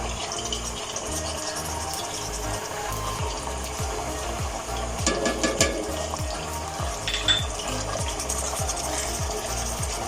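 Ginger garlic paste fries in hot oil in a pot alongside chicken pieces for haleem, a dense continuous sizzle with rhythmic stirring scrapes and a brief louder burst midway.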